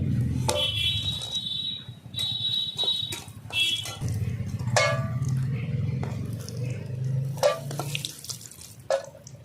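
Bori lentil dumplings frying in hot oil for a thin curry: steady crackling sizzle with scattered sharp pops and spatters, continuous throughout.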